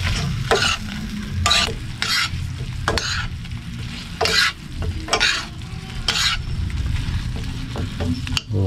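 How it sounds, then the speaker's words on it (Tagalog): Fried chicken sizzles loudly in boiling oil, a dense continuous frying hiss broken by repeated bursts of sharper crackling and spattering, close up with no talking. "Kumukulo na mga idol, lagay natin yung fried chicken natin."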